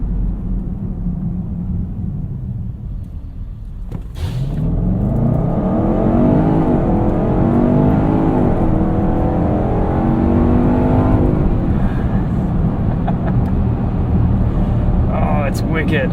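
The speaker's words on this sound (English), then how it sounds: "Acceleration run." A 2018 Range Rover Sport with a supercharged V8 accelerates hard in sport mode, its engine note rising in pitch through a gear change and staying loud, heard from inside the cabin with wind noise.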